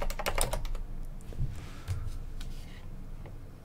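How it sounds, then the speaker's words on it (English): Quick bursts of keys clatter on a computer keyboard, dense at first then thinning into scattered taps and short pauses, close and clear with no talking. "I've just realised you can't see what I'm typing."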